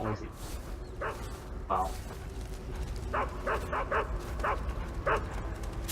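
A dog in the Metal Gear Solid video game gives a series of short yips and barks, moderately close, spread irregularly across a low in-game ambient background, with a brief spoken exclamation.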